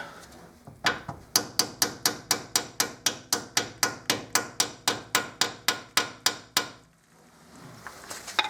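A hammer strikes metal about twenty times in a fast, steady rhythm, sharp ringing blows close by, during front brake work on a Fiorino, then stops and a couple of lighter knocks follow.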